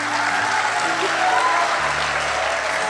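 A congregation applauds during a sermon, dense steady clapping filling the space, with faint low tones underneath.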